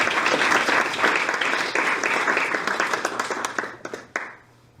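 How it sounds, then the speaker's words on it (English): An awards ceremony audience claps together in a dense burst of applause that gradually thins to scattered claps and fades out. "One more time to clap."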